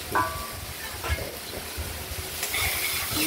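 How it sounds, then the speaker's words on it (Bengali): Mustard seeds sizzle in hot oil in a wok, a steady frying hiss with crackles and a few sharp pops and stirring scrapes, close and continuous. "কড়াইতে তেল গরম করেছি আর তাতে সর্ষে ফোড়ন দিয়ে"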